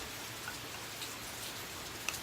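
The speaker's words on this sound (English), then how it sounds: "Oh, that beautiful rain sound." Steady rain falling outside, a soft continuous patter with a few brighter drip ticks, heard alone with no talking.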